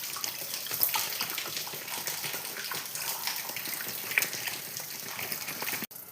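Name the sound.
Mountain Dew soda being poured into a container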